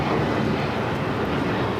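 A United Airlines Boeing 737 MAX 9 bound for Houston at LAX gives a steady, loud, broadband jet roar that stays constant for the brief moment, with no talk over it.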